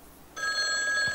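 A telephone rings in the horror video game Mental Hospital 4, a bright electronic bell tone cutting in abruptly after a quiet moment and ringing steadily and loudly to the end.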